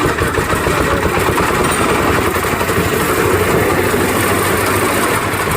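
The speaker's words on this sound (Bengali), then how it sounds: "তো তোমরা যারা দেখছো না তোমরা দেখানোর চেষ্টা করতেছি কীভাবে ধান মারালে হয় এই যে মেশিনটা এটা কয় বোম্বা" A paddy threshing machine engine running steadily in a village: a loud, continuous, rough mechanical drone with a rattling chug that holds at constant volume throughout, with no talking.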